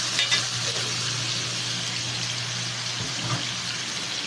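Tomato and onion sauté in a pan with a steady, close sizzle and occasional stirring scrapes, with no talk over the frying.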